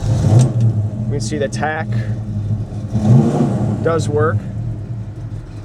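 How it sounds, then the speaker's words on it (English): A 1968 Pontiac GTO H.O. hardtop with a Hurst-shifted four-speed rumbles through its exhaust in a low, steady drone that runs beneath someone talking throughout. "I'm sure you already noticed that wonderful exhaust note"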